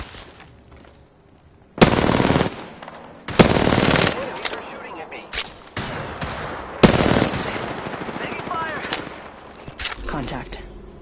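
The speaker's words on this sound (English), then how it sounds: "Opening fire on the enemy." Rapid machine-gun fire aimed at an enemy in a video game, coming in several sharp, loud bursts separated by short pauses, with quieter game sounds and voices between volleys.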